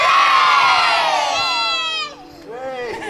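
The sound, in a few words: children shouting hello loudly together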